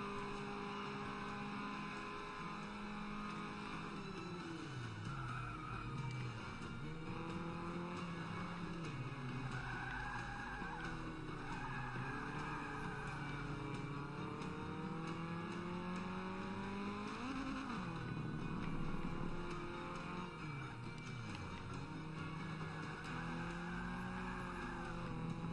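A car drifting through corners in Forza Motorsport 5, with the engine revving up and down continuously and long tyre skids sweeping through each turn, loud and close, with no talking.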